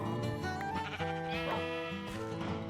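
Sheep in the Minecraft 1.16.3 survival game give repeated bleats over a steady background of game music, several calls overlapping in quick succession.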